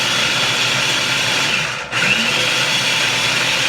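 A low food processor whirring steadily as it chops onions in a home kitchen, a loud continuous motor drone that briefly dips before resuming at full strength.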